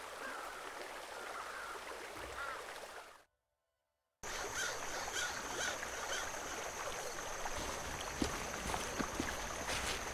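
A flowing brook from the video game The Night of the Rabbit, heard as a steady broadband rush of water that cuts out briefly partway through, then resumes at an even level.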